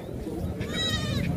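A goat bleats at a livestock market in Taxila, where goats with young kids are sold, giving a wavering, moderately close call in the second half over steady crowd murmur and background talk.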